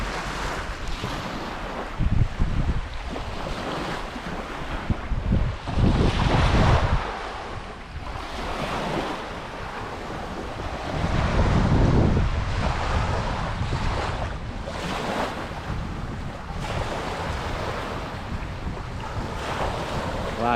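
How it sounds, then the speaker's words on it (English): Waves on the Lower Niagara River at Fort Niagara State Park roll and wash continuously nearby, a loud surging roar heavily buffeted by wind noise on the microphone. "sitting down here just listening to the waves crashing"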